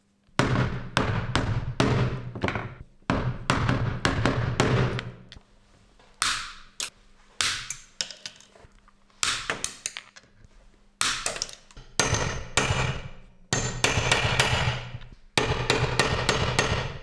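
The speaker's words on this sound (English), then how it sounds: "Now you just have to snip them off and hammer them flat on an anvil or something like that." Copper rivets on a leather journal cover's closure strap are hammered flat on an anvil: loud, sharp metallic strikes in fast bursts of several blows, separated by short pauses, close up.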